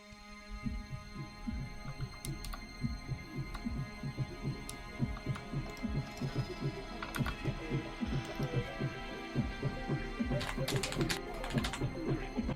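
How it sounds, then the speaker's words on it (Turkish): Rapid, continuous clicking of a computer keyboard being typed on, a dense stream of keystrokes with occasional louder clacks, close up. "Klavye sesinden belli oluyor kazancı."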